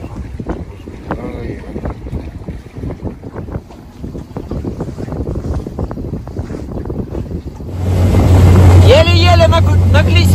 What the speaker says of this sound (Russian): Еле-еле на глиссер вышли.